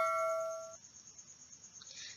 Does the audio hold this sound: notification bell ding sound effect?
yes